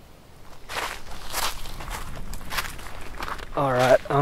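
Footsteps crunch and rustle through a Kentucky hardwood ridge during spring turkey season, in a steady walking rhythm, close and fairly loud, ending with a short burst of a voice.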